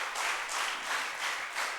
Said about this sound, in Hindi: मैं इन सभी महानुभावों के लिए एक बार जोरदार तालियों के लिए आपका आग्रह करूंगा